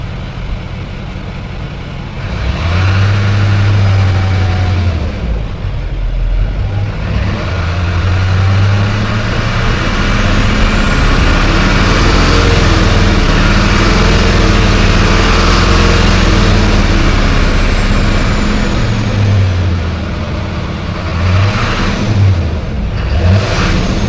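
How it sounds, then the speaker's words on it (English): A Duramax diesel pickup truck fitted with a 5-inch MBRP straight-pipe exhaust, its deep engine rumble rising and falling through several revs and accelerations, loud and close throughout, with a faint turbo whistle above it. "you can hear, you know, a faint turbo whistle and everything"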